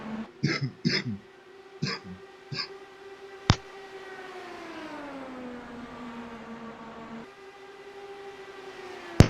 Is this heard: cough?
yes